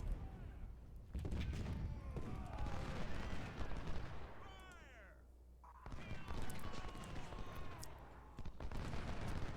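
Gunfire and cannon in a Civil War battle in the Ultimate General: Civil War video game, with dense crackling musket volleys and heavy booms, briefly thinning in the middle before resuming loudly.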